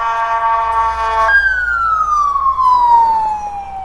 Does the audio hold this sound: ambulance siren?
yes